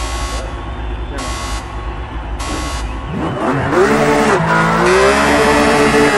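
Porsche GT3 RS race car engine in Project CARS 2 at Long Beach, a steady loud engine drone that rises into revving with shifting pitch sweeps partway through, with talk over it.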